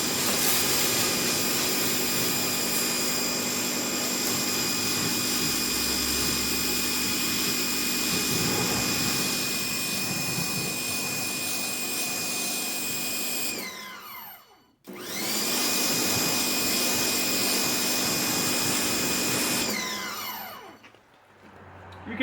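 A Sun Joe electric pressure washer runs with a loud, steady whine and hum, cuts out briefly, restarts, then winds down at the end, heard close up with no talk.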